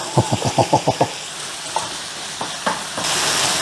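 Onions and garlic drop into a hot frying pan for a Philly cheesesteak, starting with a quick run of rhythmic scrapes and taps, then rising into a steady close sizzle.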